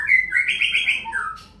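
A white-rumped shama in a heightened breeding condition sings a loud, close run of bright whistled phrases, rising and sliding across about a second and a half, with no other sounds around it.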